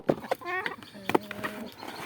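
Chickens cluck in short bursts nearby, with a few louder clucks and brief trailing calls, mixed with light background noise.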